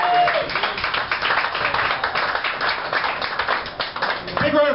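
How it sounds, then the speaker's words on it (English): A comedy-club crowd in Lancaster claps loudly and steadily for a comedian billed as Prince Imhotep from the Mummy, with a voice breaking in briefly near the start and end. "Big round of applause for Prince Imhotep from the Mummy there."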